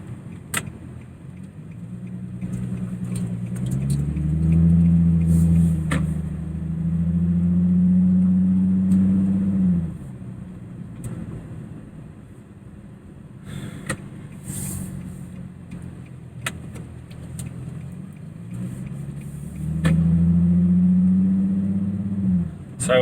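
A Nissan 350Z fitted with a Z1 Motorsports Y-pipe back dual exhaust idles with a deep burble, rising into two longer throaty revs, with a few sharp clicks and rustles close by.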